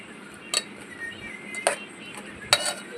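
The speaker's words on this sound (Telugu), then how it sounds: "బీరకాయలు, సాల్ట్ అవన్నీ కలిసేలా, ఉల్లిగడ్డ, పచ్చిమిర్చి అవన్నీ కలిసేలా మంచిగా కలబెట్టుకోవాలి." A spoon stirs ridge gourd curry with onion, green chilli and salt in a cooking pan, giving three sharp metallic clinks about a second apart over a quiet kitchen background.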